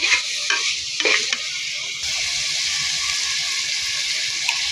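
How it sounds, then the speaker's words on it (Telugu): Tomato fries in a pan with a constant close sizzle, and a spoon scrapes and stirs through it during the first couple of seconds before the hiss settles into a steady, even fry. "ఇది కొద్దిగా వేగనివ్వాలి"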